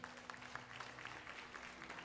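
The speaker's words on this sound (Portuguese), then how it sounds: "Você pode dar uma salva de palmas ao Senhor?" Faint applause from a church congregation during a worship service, a soft, distant patter of clapping hands over a steady low hum.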